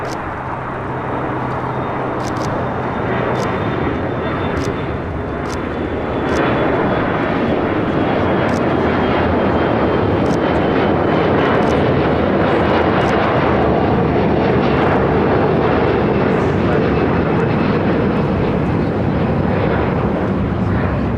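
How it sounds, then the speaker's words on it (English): An Aero Airways Boeing 737-400, 34 years old, takes off for Nashville at LAX, its loud, steady engine roar building after a few seconds and holding strong throughout, with wind buffeting the microphone. "This is Aero Airways 9804 taking off to Nashville on a 737-400"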